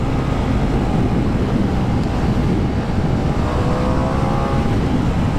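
A Ducati Diavel V4 motorcycle engine pulls hard at around 60 mph, its drone buried in loud, steady rushing wind noise with no breaks.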